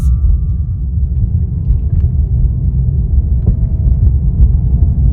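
A car engine rumbles low and steady as a learner driver eases onto the gas in a 30 zone near a playground, a constant close throbbing hum with no voices over it.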